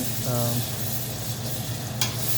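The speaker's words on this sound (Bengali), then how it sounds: "আমাকে নাড়তে হবে বারবার যাতে নিচে লেগে না যায়।" Beef stirred in a pot as it sizzles and starts to catch on the bottom: loud, continuous frying hiss with scraping stirs and a brief clink near the end, close by.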